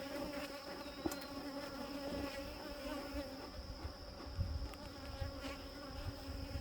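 Honey bees buzz around a hive being tended with smoke, a steady close hum of many insects with occasional louder passes near the microphone and a few soft knocks and handling sounds.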